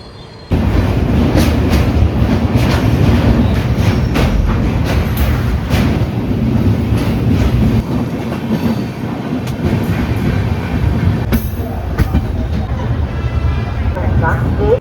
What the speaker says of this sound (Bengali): ট্রেন আমাদের ছেড়ে দিল পণ্ডিত দীনদয়াল উপাধ্যায় জংশন থেকে